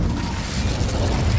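A fiery Incendio spell blast in Hogwarts Legacy, a loud, dense burst with rumbling low crackle that holds steady for about a second and a half, with no speech over it.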